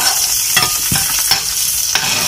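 Onions and curry leaves sizzling loudly in a pan close by, with a continuous hiss and a few distinct scraping stirs of a spoon; no voices.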